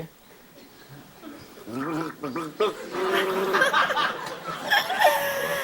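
A person gargles as a mock musical instrument, producing a bubbling, pitched throat gurgle that swells and wavers as if carrying a tune, joined by laughter and chuckling from others nearby.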